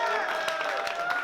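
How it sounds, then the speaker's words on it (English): Rap battle crowd applauding and cheering at a Premier Battles event, a dense steady wash of clapping with a voice talking over it throughout. "Unan round of applause."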